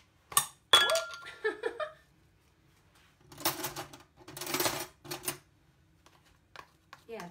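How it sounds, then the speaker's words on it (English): A utensil stirring lemon juice and bicarb in a bowl for a ginger cake, giving sharp clinks against the bowl followed by bursts of scraping and rattling, close and moderately loud. "So literally, I'm going to stir this in, pour it straight onto the baking tray."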